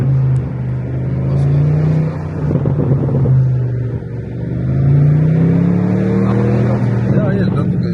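A car drives slowly along a long street lined with cars for sale at an auto market, its engine humming and rising and falling under continuous talk inside the vehicle.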